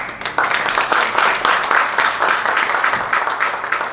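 Loud, dense applause from a church seminar audience welcoming a pastor, many hands clapping steadily throughout with no pause.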